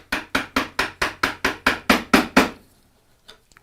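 A wood chisel struck with a mallet while chopping a mitered bridle joint for a window: eleven sharp, evenly spaced knocks in a steady rhythm, close and loud, growing slightly heavier toward the end, then a pause and a few faint taps.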